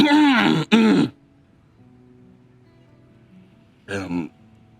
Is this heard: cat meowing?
no